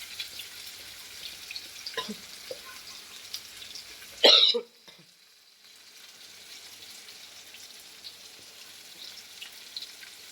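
Goat brain frying in a pan gives a steady, close hiss of sizzling oil. A sharp cough breaks in midway, then the frying continues more quietly.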